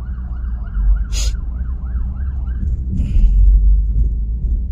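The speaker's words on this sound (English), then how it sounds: "As you can see, emergency vehicle crossing." An emergency vehicle siren wails in rising and falling sweeps through New York traffic near a tunnel approach, over low road rumble, with a short burst of a different tone partway through.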